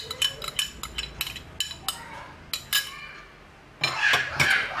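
Eggs go into a mixing bowl for Putri Salju cookie dough with a run of light clinks and taps of utensils against the bowl, ending in a denser clatter.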